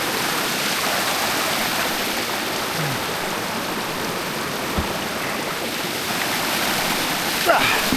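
A cold mountain creek flows in a loud, steady rushing wash of water that fills the whole scene, with a few faint knocks and bumps close by.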